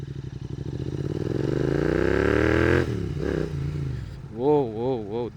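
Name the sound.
Royal Enfield GT 650 motorcycle engine revving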